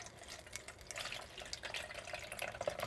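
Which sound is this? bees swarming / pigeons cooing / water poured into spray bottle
water poured into spray bottle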